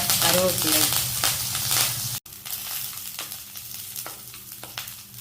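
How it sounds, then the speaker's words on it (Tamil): Urad dal, cumin, mustard seeds, green chilli and curry leaves fry in hot oil in a pan, a loud close sizzle with stirring scrapes that briefly cuts out, then continues more quietly. "இந்த பச்சை மிளகா கொஞ்சம் வாசனை வர்ற வரைக்கும் வதக்கணுமா, அப்போ தான் நல்லாயிருக்கும்."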